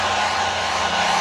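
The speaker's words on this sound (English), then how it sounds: "I think for the feet, I would go with the wand dryer" A wand dryer blowing on a fearful dog's feet during grooming gives a constant, loud airy whoosh close by, with no voices.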